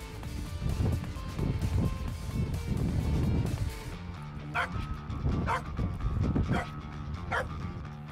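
A detection dog barks repeatedly in short, sharp bursts, fairly close, over a busy muffled background, the barks spaced about once a second.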